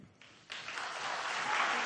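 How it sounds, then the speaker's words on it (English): A presidential debate audience in a hall breaks into applause that swells from a few claps into a loud, sustained wash of clapping. "Can we please hold the applause?"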